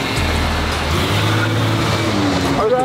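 A Lamborghini exhaust rumbles in a deep, steady drone, rising slightly in pitch near the end, heard up close and loud.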